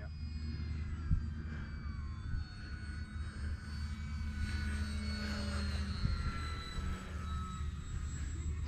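E-Flite Pitts S-1S 850mm RC model biplane on its maiden flight, electric motor whining as it passes overhead, the pitch rising and falling with distance over a steady low outdoor rumble.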